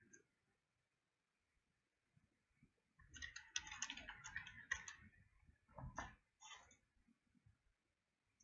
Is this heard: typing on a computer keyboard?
yes